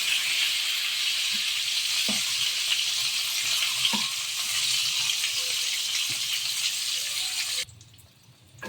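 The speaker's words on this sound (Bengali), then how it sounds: "পটলগুলো এক পিঠ ভাজা হয়ে গেছে" Pointed gourd pieces fry in hot oil as a steady, close sizzle, with a few soft clicks of turning. The sizzle drops away sharply near the end.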